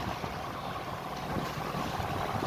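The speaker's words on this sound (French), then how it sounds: "Donc on reste au moteur, on est très bien au moteur." Steady low engine drone of a sailboat motoring at sea at sunset, continuous and fairly quiet with wind and water wash over it, no voices.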